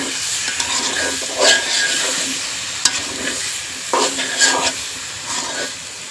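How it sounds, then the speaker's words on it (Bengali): Potatoes stir-fried in a thick spice paste for a tomato fish curry sizzle steadily in a pan, with a few louder scraping stirs breaking through the continuous frying hiss. "তো আলুটাও কষানো হয়ে গেছে"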